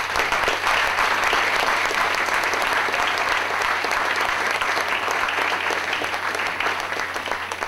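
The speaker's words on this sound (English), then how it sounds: "I think she needs a big round of applause for that." Sustained, loud applause from an audience at a Rhode Island Jobs with Justice awards event, dense and even throughout, tapering slightly near the end.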